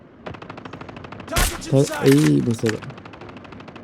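Rapid gunfire from a sniper rifle in the video game Call of Duty, a steady burst of sharp shots running through the clip with someone talking over the middle.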